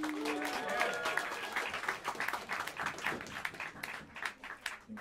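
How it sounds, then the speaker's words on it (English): A crowd at Smalls Jazz Club in New York City claps and applauds steadily for a jazz quartet, with a brief voice early on and scattered cheers mixed into the clapping. "give a warm round of applause"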